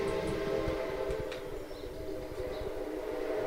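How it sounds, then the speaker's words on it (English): A train rumbles past close by, a sustained low roar with rattling wheels and a brief squeal, loud and steady throughout. "Here comes the train."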